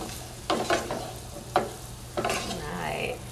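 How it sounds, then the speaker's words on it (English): Corn and chickpeas being stirred with barbecue sauce in a pan, several wet scraping strokes in an uneven rhythm over a faint sizzle, close and with no talking. "add our barbecue sauce. And we're just gonna get that all in there, stir it around, try to coat everything"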